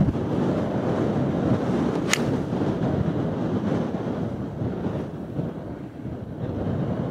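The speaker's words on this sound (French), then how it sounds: "Ça souffle." Steady wind gusting across an open golf course during a pro-am round, a continuous broadband roar buffeting the microphone for the whole stretch, with one brief sharp tick partway through.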